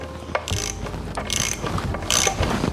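A ratchet wrench with an 18 deep socket clicks in quick bursts while tightening 45-degree AN fittings in the engine bay of an LS-swapped Monte Carlo with a built 5.3 engine, close and fairly loud with no talking.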